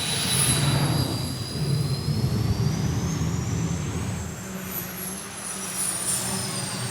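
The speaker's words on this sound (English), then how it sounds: "That is a unique sound of the gas turbine." The Howmet gas turbine race car runs at a motorsport festival hillclimb, giving a loud, sustained turbine whine with rising and falling high-pitched tones over a rumbling roar as it passes nearby, with no talk.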